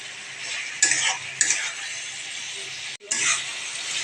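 Fried potatoes and pointed gourd get stirred in spiced oil, a steady close sizzle marked by a few clinks and scrapes of a spoon against the pan, with a brief break in the noise.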